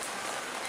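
Rain falling steadily in Asakusa, Tokyo, a dense, even hiss of drops that holds without a break, fairly faint, with no voices over it.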